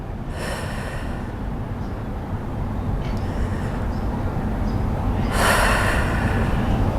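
Strong breathy exhales come from someone doing an abdominal breathing exercise in a workout for diastasis recti. Two long rushing breaths sound close to the microphone over a steady low room hum.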